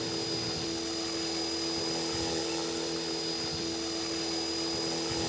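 An Align T-REX 450 radio-controlled model helicopter buzzes steadily with a high-pitched motor whine and rotor drone, constant and fairly close, with no talking.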